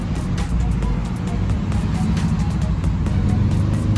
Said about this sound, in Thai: กดที่ปุ่มหนึ่งครั้ง รื่องยนต์ก็จะสตาร์ติดนะครับ